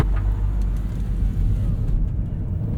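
Steady loud road roar inside a 2009 NC2 Mazda MX-5 Miata with a 5-speed manual cruising on the highway, constant low tire rumble mixed with wind rush and no talking.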